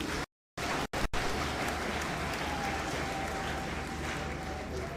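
Mourners at a funeral gathering for an archbishop break into steady applause, a dense even patter of many hands clapping at moderate volume after a couple of brief dropouts at the start.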